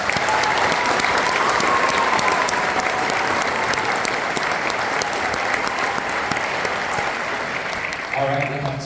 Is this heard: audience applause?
yes